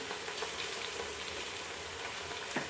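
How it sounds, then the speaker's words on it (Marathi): Fine mustard seeds crackle and sizzle in hot oil while making spicy poha chivda, a steady dense frying hiss with scattered small pops, close and alone. "आता त्याच्यात मी मोहरी टाकते मी बारीक मोहरी घेतलेली आहे जाड मोहरी नाही आहे"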